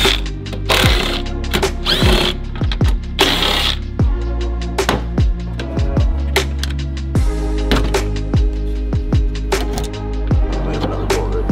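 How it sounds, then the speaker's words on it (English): Ratchet working bolts loose on a Mazdaspeed3 window regulator: repeated rapid clicking bursts with sharp metallic ticks and a few louder rasping runs, close and loud, with no talking. "Go ahead and remove all these bolts."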